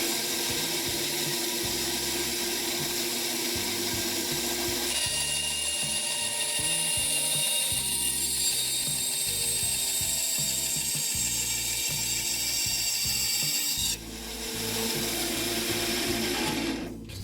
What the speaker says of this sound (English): Right, over to the bandsaw to cut that now.